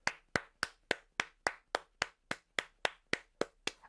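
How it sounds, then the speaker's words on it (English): A single pair of hands clapping about a dozen times in a steady, even rhythm, crisp and close with silence between each clap. "All of them deserve a round of applause."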